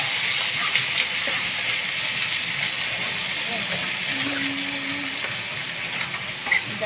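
Bitter gourd pieces hit a hot pan and sizzle, producing a steady hiss like rain that carries on evenly at close range, with faint background sounds.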